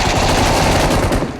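Loud, continuous automatic gunfire from the BGMI mobile battle-royale game, a dense rapid burst of shots that fills the whole moment before tailing off slightly at the end.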